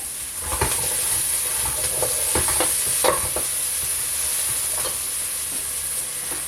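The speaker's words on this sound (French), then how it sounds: "là, j'ai mis les oignons à revenir. Alors, les échalotes à revenir." Shallots sautéing in a pan, with a loud steady hissing sizzle and occasional scrapes and knocks of the utensil moving them around, close up, no speech.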